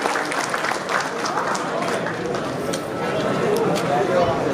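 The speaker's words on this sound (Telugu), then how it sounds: "వచ్చిన వాళ్ళందరూ ఒక్కసారి టీజర్కి మరొకసారి గట్టిగా చప్పట్లు కొడితే" An audience claps for a film teaser at a launch event, a dense spread of applause running throughout while voices carry over the top.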